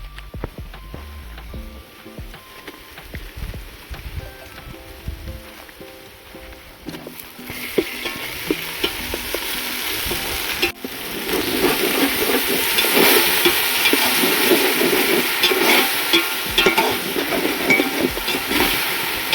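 Ginger garlic paste sizzles in hot oil for mutton curry, quiet scraping stirs at first, then louder, continuous frying with the clatter of a spatula close by.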